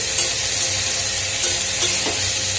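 Long beans, potato and onion frying together in a pan over a high gas flame, a loud continuous sizzle with occasional stirring scrapes close by.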